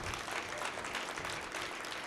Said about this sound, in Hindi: एक बार पहले जोरदार तालियां बजाकर पुनः मन बनाइए।